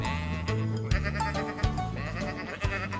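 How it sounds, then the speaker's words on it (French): Cartoon sheep bleat repeatedly in the Tracteur Tom animated series, several loud, wavering bleats in quick succession over a farm scene, close and clear. "Mais alors que Riff reconduit les moutons dans leur pré"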